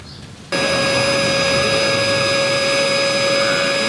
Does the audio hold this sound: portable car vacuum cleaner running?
yes